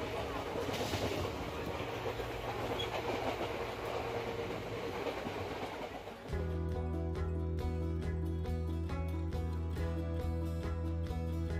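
A train rushes through a hill-country station without stopping, with a loud roar, then a rapid, regular clickety-clack of wheels over rail joints continues steadily.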